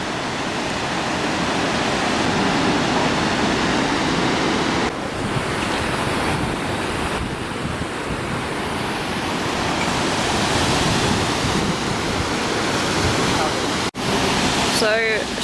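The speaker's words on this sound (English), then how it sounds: "These are the waterfalls." Waterfalls in Wales roar with a steady, dense rush of falling water that stays loud and continuous throughout, with brief wind buffeting on the microphone.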